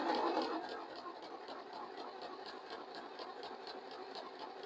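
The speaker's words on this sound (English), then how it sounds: "And if you can hear it, you can tell it's plastic gears" A sewing machine with plastic gears runs steadily, giving a quiet, rhythmic mechanical whir and patter with a regular ticking beat throughout.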